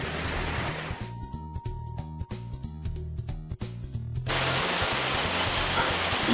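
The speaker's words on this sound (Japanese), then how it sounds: "いよいよすごい雨になってきました" Heavy rain pours down outdoors during motorcycle engine cleaning work, a steady loud hiss that swells to a dense roar in the last couple of seconds, with faint rhythmic mechanical ticking beneath it and no talk.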